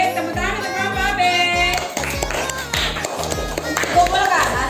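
Classroom applause for a student group, a run of quick hand claps from several pupils mixed with chatter and a teacher's voice over it.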